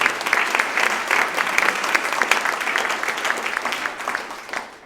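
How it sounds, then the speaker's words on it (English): Applause from an audience at a local entrepreneurs' awards event as an award winner is introduced, a full, steady round of clapping from many people that gradually tapers off at the end. "A round of applause for Liesl Leong."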